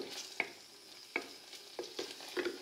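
A spoon stirs coquillettes pasta through melted butter in a pan, soft scraping taps and a faint sizzle coming in uneven strokes, quiet and close with no voices.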